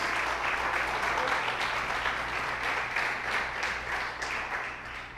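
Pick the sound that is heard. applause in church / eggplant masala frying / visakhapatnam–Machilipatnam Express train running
applause in church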